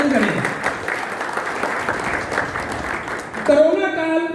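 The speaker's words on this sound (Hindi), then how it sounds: "जोरदार तालियों से चाहूँगा आपका स्वागत करें" Loud, steady applause from a crowd welcoming honorees at a felicitation ceremony in Sangaria, lasting several seconds before a voice begins speaking over the tail end.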